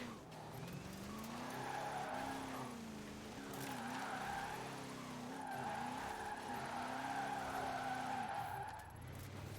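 A Ford F-5 dually pickup on sport tyres slides through a drift in Forza Horizon 4, its tyres squealing steadily over a droning, wavering engine for the whole stretch, loud and close with no talking.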